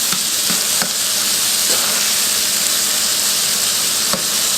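Beef and onions fry in a pan for a paleo beef and broccoli dish, giving a continuous loud sizzling hiss with a few faint clicks, close up and with no voices.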